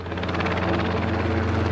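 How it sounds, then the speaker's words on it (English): A helicopter at an airport drones steadily up close, its rotor thumping in a continuous low rumble under wind, with no talk. "The helicopter, I'm pointing the microphone directly at it."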